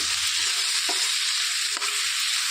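Tomato pieces and turmeric stirred in a hot pan: a steady close sizzle broken by a couple of brief spoon scrapes, with no talking.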